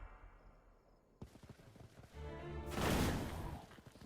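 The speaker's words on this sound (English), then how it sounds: "Fireworks." Crackling, fireworks-like bursts of explosions in Age of Wonders 3, a dense noisy rattle that swells into a louder roar near the end, heard without speech.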